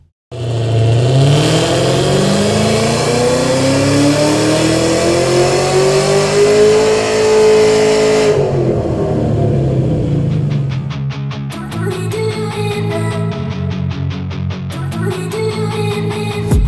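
A Chevrolet Camaro ZL1 V8 with a Borla full exhaust and custom long-tube headers revs on a dyno, its loud engine note climbing steadily for several seconds, then cutting back to a rough, pulsing idle with a few sharp crackles.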